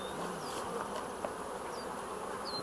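Honeybees buzz inside a beehive as the comb is examined, a dense continuous hum of many insects close by, with a few individual bees flying past.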